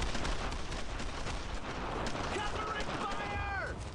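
Sustained World War II gunfire in a Normandy combat shooter, dense overlapping rifle and machine-gun bursts rolling continuously across the scene with shouted voices mixed in.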